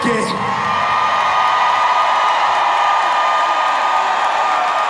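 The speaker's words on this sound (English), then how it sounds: "Make some noise for the one and only Vicky Weke." A large live crowd cheers and whoops loudly for a performer being introduced, a dense sustained roar with shouts rising above it, steady from start to finish.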